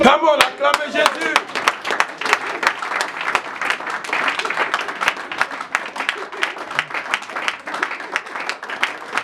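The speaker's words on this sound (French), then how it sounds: "Come on, acclamez Jésus." A church congregation claps during a Sunday worship service: many hands beat together in a fast, steady rhythm, with voices calling and singing over the clapping.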